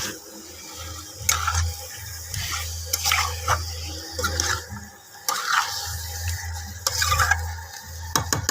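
Rinse water from poppy seed and cashew paste goes into a pan of chicken rezala, with splashing, stirring scrapes and a low bubbling simmer, close and uneven.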